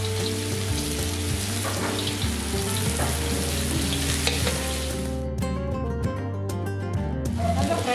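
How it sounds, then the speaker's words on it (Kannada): Chopped garlic frying in a pan gives a steady, close sizzle, with bright crackle that thins out toward the end. "ಗಾರ್ಲಿಗೂ ಸಣ್ಣ ಕಟ್ ಮಾಡಿ ಇವಾಗ ನಾವು ಫ್ರೈ ಮಾಡ್ತಾನೆ."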